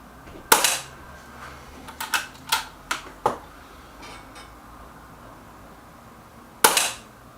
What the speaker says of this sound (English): that's 10 shots there with that pellet